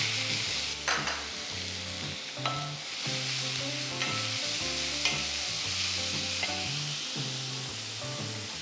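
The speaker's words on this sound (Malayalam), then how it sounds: "ഈ സവോള ലൈറ്റ് ബ്രൗൺ കളർ ആവണം. അതുവരെ വഴറ്റിയെടുക്കുക." Chopped onion fries with cumin and shahi jeera seeds in a pan, giving a steady, close sizzle. The sizzle continues without a break, with occasional clinks and scrapes from stirring.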